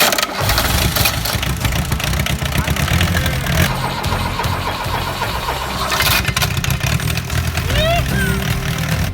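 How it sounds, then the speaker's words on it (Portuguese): Engines being started during a hands-on mechanics course, a loud close engine cranking and catching, then running and idling roughly, with people talking over it. "Ligamos alguns motores,"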